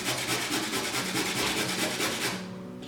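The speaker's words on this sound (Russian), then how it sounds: "Трем морковку на мелкой терке." Carrot rubbed against a fine kitchen grater, a fast steady rasping scrape repeating in quick strokes, close and fairly loud, alone without talk, then trailing off near the end.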